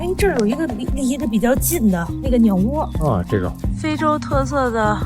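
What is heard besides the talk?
None of the usual background noises is heard.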